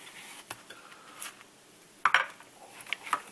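A metal knife scrapes and clinks against a plate while spreading cream cheese on an oatmeal toaster, with faint, close, irregular taps and light scraping in a quiet room.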